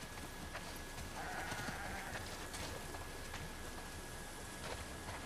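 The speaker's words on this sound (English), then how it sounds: "Wow, that's a lot of sheep." Sheep in a barn in The Last of Us Part II, bleating faintly and intermittently through steady rain hiss, with a quiet flock murmur in the background.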